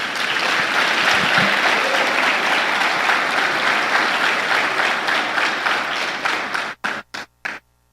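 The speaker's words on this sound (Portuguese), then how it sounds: "Vamos aplaudir Jesus." A church congregation applauding in a dense, loud, sustained roar of clapping that breaks into a few final separate bursts before fading out.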